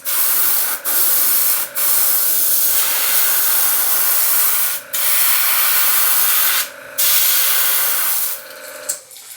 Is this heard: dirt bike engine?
no